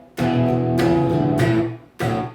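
Electric guitar boogie riff with string muting, played loud and close in short bursts, with sharp attacks separated by brief gaps.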